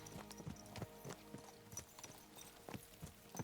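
Horse hooves clip-clop in Kingdom Come: Deliverance II, several horses moving in a quick, uneven gait with sharp repeated strikes close by, joined by faint snorts over a low steady background.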